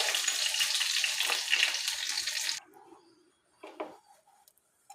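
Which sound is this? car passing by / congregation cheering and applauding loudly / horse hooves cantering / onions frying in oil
onions frying in oil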